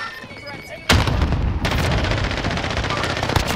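Loud bursts of rapid gunfire from a squad-based shooter video game erupt suddenly and keep rattling close by in dense automatic volleys.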